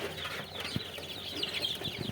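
Tiger chickens cluck softly in the background at a poultry shop with faint bird chatter, low in level and continuous.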